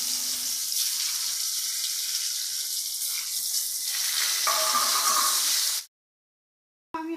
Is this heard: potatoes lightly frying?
yes